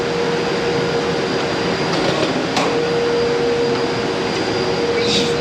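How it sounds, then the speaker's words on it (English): Tube laser cutting machine running with nitrogen assist gas, a loud, steady rushing hiss with a constant high tone, occasional brief sharp clicks, close by and unbroken. "This side is the tube cutting side."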